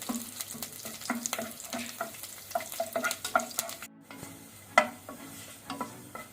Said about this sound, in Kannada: ಬೆಳ್ಳುಳ್ಳಿ ಸ್ವಲ್ಪ ಫ್ರೈ ಆಗಲಿ, ಕಲರ್ ಚೇಂಜ್ ಆಗಲಿ ಮೀಡಿಯಂ ಫ್ಲೇಮಲ್ಲಿ